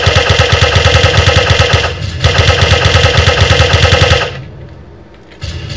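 Rapid automatic Uzi fire in the Radio Zed video game, a close, loud, continuous rattle of shots in two long bursts separated by a short gap, then fading to quieter background game noise.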